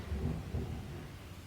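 Thunderstorm over Porto with pouring rain, a low rumbling roll of thunder with soft rain hiss beneath, moderately distant and fading out over about a second and a half.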